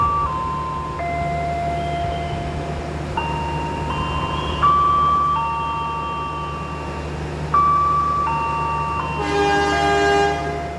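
A train horn sounds in several sustained tonal blasts over steady station rumble, with a brighter, higher chime near the end, as the Tawang Alun train departs from track 2 at a station in Lumajang Regency, Indonesia.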